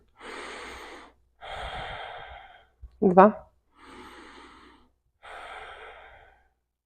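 Deep, slow breaths during a prenatal yoga session, with long airy inhales and exhales repeating in an even rhythm near the microphone, and a short spoken count in the middle.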